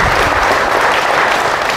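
A church congregation at a parish service in Pandi, Bulacan claps softly and unevenly, a thin, steady patter of hands filling the room for a couple of seconds with no voices over it.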